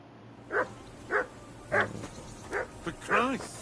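A dog in Kingdom Come Deliverance 2 barks in a series of sharp, separate yaps, about six in a row with short gaps, fairly close and loud over a quiet background.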